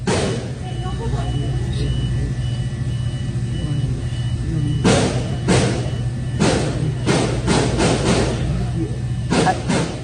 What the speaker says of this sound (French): on entend vraiment très distinctement plusieurs coups de feu